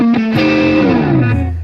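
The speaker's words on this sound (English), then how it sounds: "this particular pedal is getting definitely a little bit more overdrive characteristic than, let's just say, a straight up distortion" An electric guitar plays through a Nobels DT-1 distortion pedal, giving a gritty, overdriven chord that rings loud and sustained, then slides downward as it fades.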